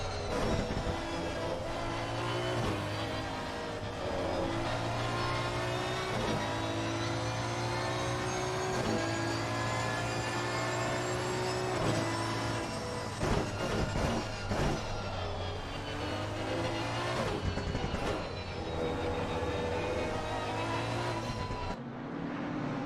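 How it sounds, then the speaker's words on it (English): Racing car engines in a Gran Turismo race at Paul Ricard drone steadily and loudly, shifting pitch through gear changes, with a brief pause near the end. Cars pass close throughout. "That is a lovely car by the sound of it."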